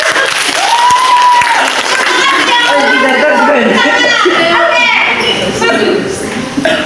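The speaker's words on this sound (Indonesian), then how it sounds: "Tepuk tangan." Children clapping together in a first-grade Indonesian language classroom, a loud burst of applause mixed with kids' chatter and a teacher's voice talking over it.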